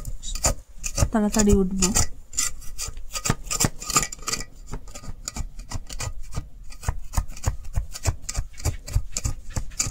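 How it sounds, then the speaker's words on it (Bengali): A knife scraping and cutting around the sides of steamed palm pitha in a pan, a quick series of rasping strokes and taps in an uneven rhythm, close and fairly loud, with a brief spoken phrase near the start. "চাকুর সাহায্যে এই যে সাইডটা কাটিয়ে দিব"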